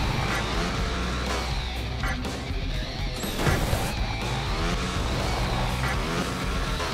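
Motorcycle racing in the video game Moto Racer 4, with a continuous loud engine roar, crashing and thudding impacts, and dense game noise throughout.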